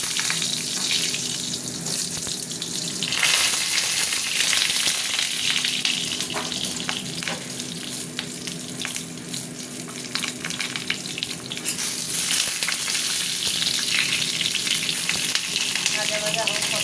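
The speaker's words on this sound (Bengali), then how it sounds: "তেল গরম হয়ে গেছে, আমি পটলগুলো ভাজবো।" Pointed gourd pieces fry in hot mustard oil in a wok, a loud, continuous close sizzle with bursts of crackling as they are stirred, and no talking.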